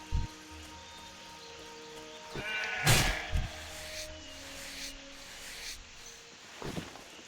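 Sheep bleating in World of Warcraft Classic, a few short, moderately faint bleats and soft thuds scattered over quiet game ambience.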